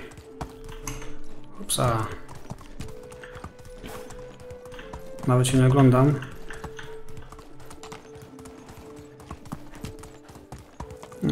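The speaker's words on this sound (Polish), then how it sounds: "jak się włączy sprinta galopem, koniem, to naprawdę szybko się biega" Horse hooves gallop in a rhythmic clip-clop in the medieval life-sim game Medieval Dynasty, with a couple of brief whinnies, while someone talks over the ride and keyboard typing clicks in the background.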